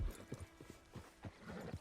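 Horse hooves clip-clop faintly in Red Dead Redemption 2, a quick irregular patter of soft thuds that blends with a quiet background.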